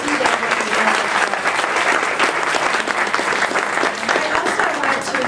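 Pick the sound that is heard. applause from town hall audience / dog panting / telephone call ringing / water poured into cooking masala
applause from town hall audience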